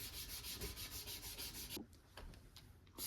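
An old knife blade, once a great-grandfather's, being hand sanded with a 400-grit sanding stick in rhythmic back-and-forth strokes, a close steady scratchy rasp that pauses briefly and then resumes more lightly.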